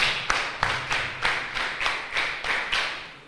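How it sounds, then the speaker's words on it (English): Audience performs a special rhythmic clap for a guest speaker, about eight loud group claps in a steady beat with bursts of crowd noise between. "This is a special clap for you."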